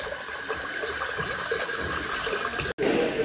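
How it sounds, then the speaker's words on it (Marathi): Water poured as an offering onto a Shiva lingam inside a hilltop temple at Tungareshwar, Vasai, makes a steady, continuous rushing flow, fairly close, with a brief break near the end. "पिंडीवरती जल म्हणजे पाणी टाकणार आहोत"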